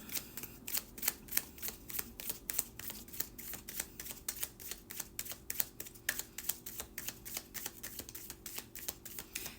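Tarot cards are shuffled close by, with a steady run of crisp flicking and snapping clicks lasting several seconds. No voices are heard.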